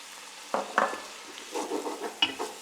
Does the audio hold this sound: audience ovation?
no